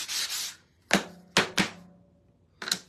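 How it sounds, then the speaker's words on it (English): Several sharp scraping strokes of sanding the edges of a shiplap wood board, irregularly spaced, with brief pauses between them; close and fairly loud, no talking. "I'm just sanding the edges a little bit"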